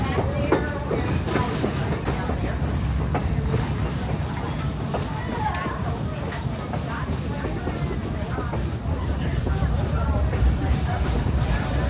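A Great Smoky Mountain Railroad passenger train rolls through the mountains with a steady rumble and rhythmic clickety-clack of the cars on the rails, heard from on board, continuous and fairly loud, with faint voices underneath.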